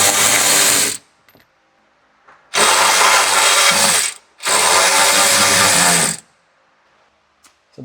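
Ratchet clicking rapidly while loosening a 10 millimeter bolt on a leaking car oil cooler line, in three loud close bursts of a second or more, separated by short pauses.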